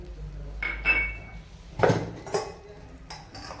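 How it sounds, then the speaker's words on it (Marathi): Jaggery being stirred in a pan until it melts for sesame vadi, sparse metallic clinks and scrapes of a spoon against the pan, fairly quiet with gaps between strokes. "पण वितळेपर्यंत तो छान हलवून घ्यायचा आहे"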